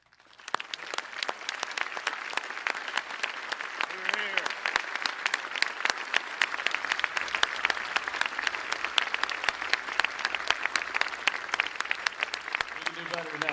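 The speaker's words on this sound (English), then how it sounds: "A grateful nation applauds all of you today." Sustained applause from the audience at the 78th Pearl Harbor remembrance ceremony in 2019, dense steady clapping that runs the full length, with a voice briefly heard beneath it.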